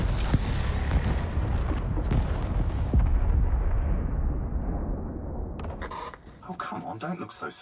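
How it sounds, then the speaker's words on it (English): An orbital ion cannon strike fires in the survival video game ICARUS, a heavy, sustained rumbling blast of booming impacts that slowly fades, followed by quieter crackling and a voice speaking. "It's the ion cannon."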